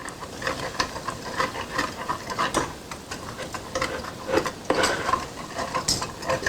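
Thick flour roux for chicken stew being stirred or whisked in a pot, a busy scraping and clinking texture with soft sizzle, quiet and close, uneven strokes with a few sharper utensil taps, no talk.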